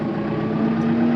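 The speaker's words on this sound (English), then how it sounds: "I imagine starting a tractor may startle her" A tractor engine starts and settles into a steady, loud rumble with a constant low hum, close by in a barn with a cat perched on a hay roll.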